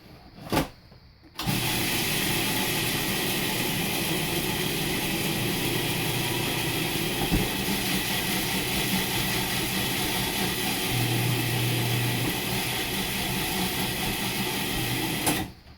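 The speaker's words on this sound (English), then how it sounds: "I'm tilting the food processor forward and I'm shaking it" Food processor blending raw pumpkin pie crust, starting after a brief click and running as a continuous loud motor whir with grinding texture for about fourteen seconds before stopping, close and without talk.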